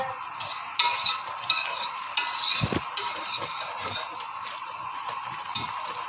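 A spoon scrapes and clinks against a pan while thick banana custard is stirred, making repeated rhythmic strokes over a soft bubbling hiss, heard up close and alone.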